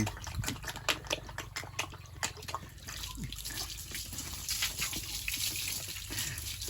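Water splashes and runs while a pygmy pig is given its first bath, with busy close splashing and dripping early on that settles into a steadier flow of running water.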